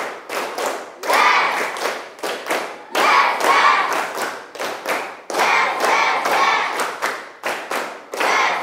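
Classroom students clap together in a repeated rhythmic pattern, groups of sharp hand claps with brief pauses between them, loud and close, with no one talking.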